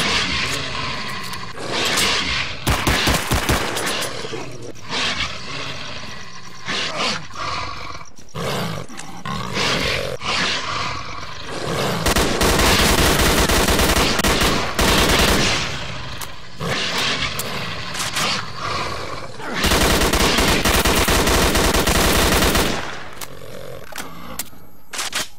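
Gunfire in STALKER Clear Sky arrives as repeated loud, roaring bursts, some long and sustained and others short, separated by brief lulls across a noisy, rumbling stretch.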